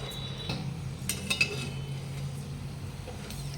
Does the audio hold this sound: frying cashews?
yes